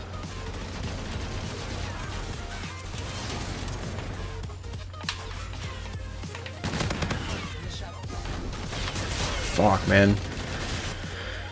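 Gunfire from the MV4 in Call of Duty: Infinite Warfare, scattered shots and battle noise running through a hectic match, with a player speaking over the action.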